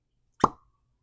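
A single short, hollow pop as the cork is pulled from a bottle of Green River wheated full-proof bourbon, crisp and close, surrounded by silence.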